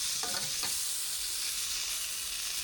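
A sirloin steak searing in a hot pan gives a loud, continuous hiss of sizzling fat, with a couple of brief clatters near the start, close up and without talk.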